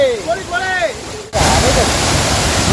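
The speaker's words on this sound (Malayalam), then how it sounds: "ഇതല്ലോ വെള്ളം വീഴുന്നതാണോ എന്നാ ശക്തിയാണോ" A voice speaks briefly, then loud, steady rushing water from a waterfall cuts in abruptly and roars continuously to the end.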